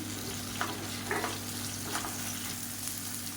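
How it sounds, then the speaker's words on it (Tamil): Onion and tomato sauté in a pan for a breakfast chutney, a soft continuous sizzle with a few light stirring scrapes, quiet and alone. "வெங்காயம் தக்காளி எல்லாமே நல்லா வதங்கும்"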